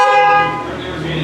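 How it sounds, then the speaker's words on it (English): A Chevy Cruze sounds its horn in a double honk, loud and close, a steady blaring tone that fades slightly midway, with no pause clearly separating two blasts. "She gave us the double honk."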